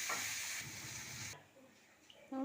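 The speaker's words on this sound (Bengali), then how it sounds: "এভাবে আদাটা ভেজে নেব" Ginger fries in hot oil for a Bengali raw banana kofta dish, giving a loud steady sizzle that drops away halfway through, then a brief voice at the very end.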